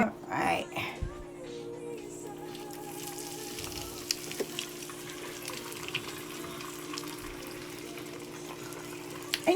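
Raviolis frying in a pan of oil, a steady soft bubbling sizzle running throughout with a few clanks of tongs near the start and end.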